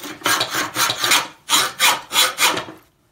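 A hacksaw cuts into an M5-1 bayonet blade with seven or eight close, rasping strokes in a steady back-and-forth rhythm, heard near and alone, then stopping.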